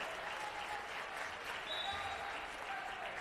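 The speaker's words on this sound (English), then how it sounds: "Brunson, the senior, getting a round of applause as he heads to the bench" A crowd at a college basketball national tournament game applauds a senior player heading to the bench, steady clapping heard faint and distant across the gym.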